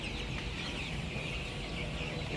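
Colour bird broiler chickens cluck softly in a farm shed, a steady low flock murmur under constant background noise.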